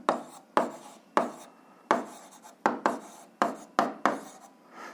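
Pen strokes scratching across paper while solving a system of equations for an 8th-grade algebra exercise, a series of quick separate scrawls in a steady rhythm, close and quiet, with no talking.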